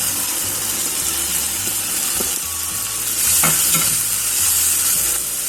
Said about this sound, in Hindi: मसाला हमारा भून गया है, अब हम इसमें कीमा डाल देंगे।